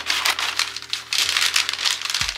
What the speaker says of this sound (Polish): Może utnę najpierw ten papier tu.